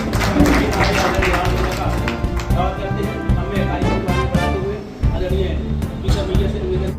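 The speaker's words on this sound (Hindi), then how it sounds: "एक बार जोरदार तालियां बजा के" Loud, dense applause from an audience at a Bharatiya Janata Party gathering, greeting a young Lok Sabha MP, with voices and background sound mixed into the steady clapping throughout.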